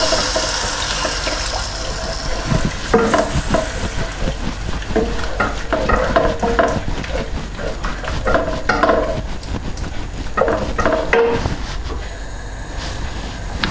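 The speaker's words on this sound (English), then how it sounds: "mix our chicken stock in, but just mix it in a little bit at a time" Chicken stock being stirred a little at a time into onion gravy in a pan for smothered pork chops, with a steady loud sizzle and rhythmic scraping, sloshing strokes repeating throughout.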